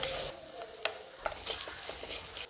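Quiet scraping and stirring in a pan with soft sizzling, irregular clinks and scrapes as coconut is dry-roasted for a bitter gourd curry.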